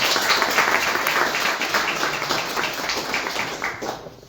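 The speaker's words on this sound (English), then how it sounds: "let's give them a round of applause" Audience applause at an evening talk by Augustinian priests on friendship in Saint Augustine, a dense sustained clapping from a crowd that stays steady and loud before thinning slightly near the end.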